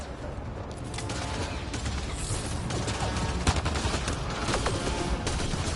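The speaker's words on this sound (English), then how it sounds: "Just keep firing, we can do this!" Sustained gunfire from a Mass Effect Andromeda firefight: dense, continuous bursts of weapon shots and impacts pile up loudly for several seconds over a booming low rumble, with no pauses.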